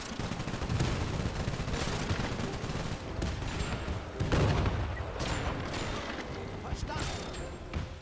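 Battle gunfire in the Men of War II real-time strategy game, a continuous mix of rifle and machine-gun shots with mechanical clatter, heavier bursts around the middle, steady and dense with no pause throughout.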